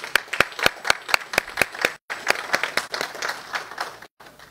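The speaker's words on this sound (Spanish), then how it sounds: "Lo recibimos entonces al señor Arévalo con un fuerte y caluroso aplauso." An audience at a seminar on sustainable anchovy fishery governance claps to welcome a speaker, starting with distinct nearby claps that build into fuller applause with brief gaps.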